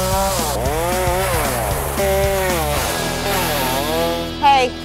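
A chainsaw revs and bogs repeatedly while cutting plants in a Florida yard, its whining engine rising and falling in pitch, close and loud, with brief talk mixed in.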